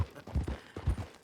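Horse hooves clopping in Red Dead Redemption 2, a short run of low, thudding beats in an uneven gait, close and moderately loud with no talk over them.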